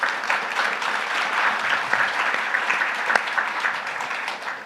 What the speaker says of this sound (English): a good round of applause for them